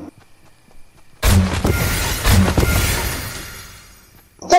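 Gunfire in the Fortnite video game: two loud booming shots about a second apart, each with a long ringing tail that fades, then another blast at the end.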